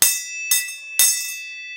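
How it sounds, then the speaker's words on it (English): A bright bell is rung three times in quick succession, with each strike leaving a clear, sustained ringing tone that fades away, loud and close. "Just ring the bell."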